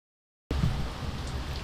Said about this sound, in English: all kinds of rain.